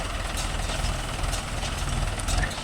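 Mahindra Yuvo Tech Plus 585 4WD tractor engine idling close by, a steady low diesel rumble with a faint knocking pulse, running throughout without speech.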